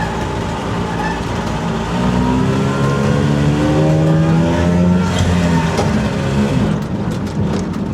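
An old Italian micro van's small engine droning steadily while driving in gear, a loud buzzing motor with rising pitch as it pulls, heard close with no talking.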